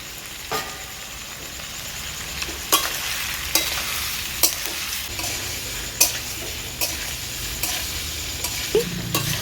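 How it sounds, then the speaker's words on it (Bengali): Green chillies are added to pumpkin frying in a pan and stirred in. A steady sizzle runs throughout, broken by regular sharp scrapes of the spoon against the pan, close and with no voices. "এবারেতে আমি দিয়ে দিচ্ছি কাঁচা লঙ্কা।"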